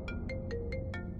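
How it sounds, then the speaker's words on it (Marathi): Phone ringtone of five quick bright electronic beeps in a steady rhythm, faint against a low background hum. "कोणाचा फोन आहे?"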